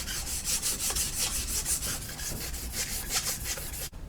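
An engine part from a GM 3800 Series II overhaul is hand-sanded with 800 grit sandpaper, making quick, even back-and-forth rubbing strokes that rasp steadily and close-up before stopping abruptly near the end.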